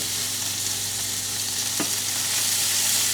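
Sausage and lentil stuffing with olive oil is stirred in a hot pan, a loud, continuous sizzle with one brief scrape of the spoon partway through, close up and without speech.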